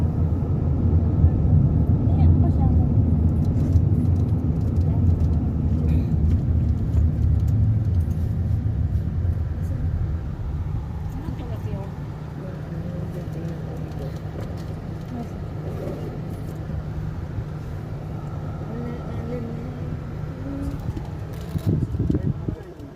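Road traffic heard from inside or beside a vehicle, a continuous low rumble of engines and tyres that is loud at first and eases slightly, with people talking now and then.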